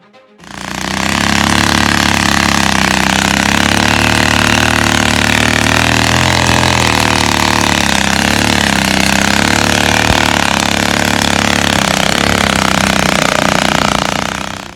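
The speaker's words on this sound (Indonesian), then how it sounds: "Pemuda modif sepeda motor amfibi saat banjir." Engine of a modified amphibious motorcycle runs through floodwater, a loud, steady, close droning rumble that holds unbroken for the whole stretch, with no talk.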